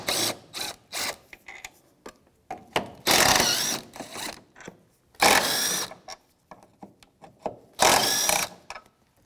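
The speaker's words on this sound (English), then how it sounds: "I'm going to take the two bolts out of the bracket here" A ratchet fitted with a 14 mm socket works bracket bolts loose on a Volvo V70, giving bursts of rapid clicking separated by pauses and lighter handling knocks, close and fairly loud with no talking.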